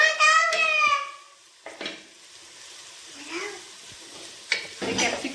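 Capsicum tossed into a hot pan in a Goan kitchen while cooking chav chav, with sizzling, scraping stirring and pan clatter, and a voice talking briefly at the start.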